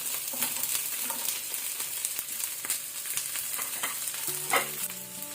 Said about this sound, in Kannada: ಸ್ವಲ್ಪ ಇದನ್ನು ಫ್ರೈ ಮಾಡುವ ಹೈ ಫ್ಲೇಮಲ್ಲಿ